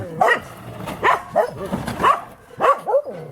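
Several dogs belonging to refugees leaving a town bark and yip in a rapid, loud run of close barks, with a few whimpering notes mixed in.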